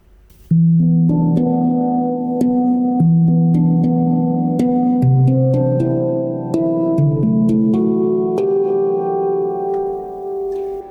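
A handpan in E Amara 20 tuning plays a mellow, ringing groove alone, notes struck in a steady repeating pattern with resonant, overlapping tones.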